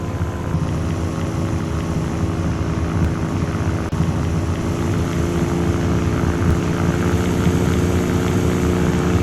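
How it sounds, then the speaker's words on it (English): A glider's engine runs at full power in the GeoFS flight simulator game, giving a constant loud droning hum with a steady propeller-like buzz and no changes in pitch, alone without talk. "soon enough the whine is going to cease and you will just hear the sound of the engine operating at full"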